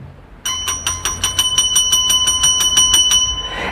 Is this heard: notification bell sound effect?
yes